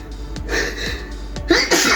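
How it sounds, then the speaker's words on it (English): A sneeze set off by spice while cooking plant-based ground meat in a home kitchen, a sharp close burst that stands out over steady background noise, with a second smaller breathy burst following shortly after. "The spice make me sneeze."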